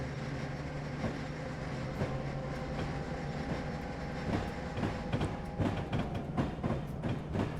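Boxcars couple onto a train in a Train Simulator 2020 railroad scene, with a low rumbling rail drone and a series of clanks and knocks growing more frequent toward the end.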